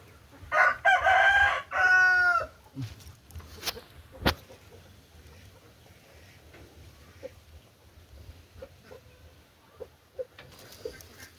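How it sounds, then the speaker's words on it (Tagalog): A rooster crows loudly a few times at the start, followed by sparse clucks and scattered chicken calls against a quiet yard background, with a person speaking briefly. "Those are chickens."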